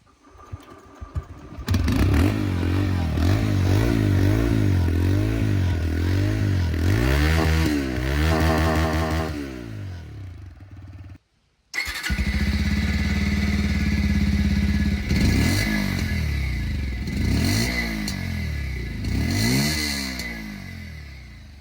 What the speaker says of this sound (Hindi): दोनों ही बाइक की जो एग्जॉस्ट साउंड है वो सुना दूँ